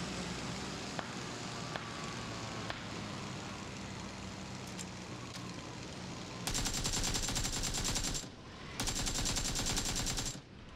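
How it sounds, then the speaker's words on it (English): Automatic gunfire from PUBG, with scattered distant shots early, then two loud, dense bursts of rapid fire from a nearby shooter in the second half. "Sounds like someone is shooting on top of the tower."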